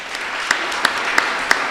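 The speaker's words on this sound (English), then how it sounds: "I want you all to give yourselves a round of applause for being here" A city council special session audience gives a short burst of applause, with a few sharper claps standing out at regular intervals over a soft wash of clapping.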